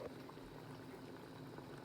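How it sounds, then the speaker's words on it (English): Crab in coconut milk bubbles at a steady rolling boil in a pot, a dense, constant gurgling hiss close by, with no voices. "It's boiling."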